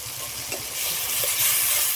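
Ground spice paste drops into hot oil for a Bengali tilapia and pea curry, setting off a loud, rising sizzle with light stirring scrapes, close up and without talk.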